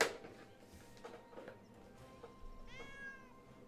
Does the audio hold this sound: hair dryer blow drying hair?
no